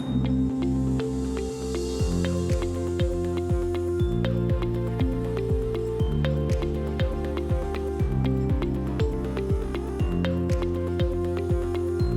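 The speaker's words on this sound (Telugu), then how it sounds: "ఇప్పుడు వాటర్ పోసుకున్న మిశ్రమాన్ని స్టవ్ ఆన్ చేసి చక్కగా మరిగించుకోండి." Fenugreek seeds in water simmer in a pot on a stove, a steady bubbling and popping with rhythmic drips and a soft hiss that carries on for the whole stretch, with no voices.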